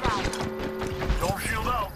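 Weapon reload in a multiplayer shooter video game: quick mechanical clicks and ratcheting clatter close up, mixed with game voice lines and chatter across the whole stretch.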